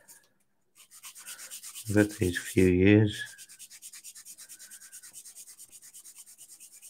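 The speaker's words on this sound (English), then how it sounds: "they are Flory model sanding sticks" Flory model sanding sticks rub against a scale model in quick, even strokes, close and soft. Someone speaks briefly in the middle while the rhythmic rasping continues.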